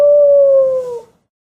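A single dog howl, one sustained loud note held clearly and close, then fading out after about a second into silence.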